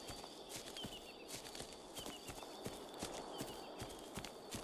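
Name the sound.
horse running off in video game ARK: Aberration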